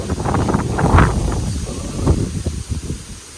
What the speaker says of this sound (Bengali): বাবারে বাতাস